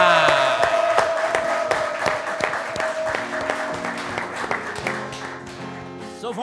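Audience applause for a singer at a live show, loud continuous clapping that starts strong and gradually thins, with a crowd murmur underneath and no music.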